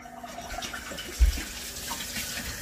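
Tap water runs steadily into a sink while an eggshell is rinsed out beneath it, a soft continuous splash with one brief louder knock partway through.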